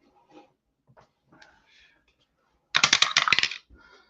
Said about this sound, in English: And we drop a dice.